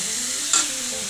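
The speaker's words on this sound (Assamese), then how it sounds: "মছলাবিলাক মই ভাজি আছোঁ।" Spices and onion paste frying in a pan for fish curry, a steady close sizzle with a brief louder hiss partway through, no voices.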